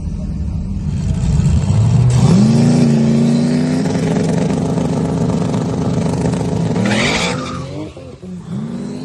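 Drag race car at the FL2K 2024 event revving hard for a burnout, its loud, close engine note climbing in pitch while tires spin and squeal before the roar suddenly cuts off.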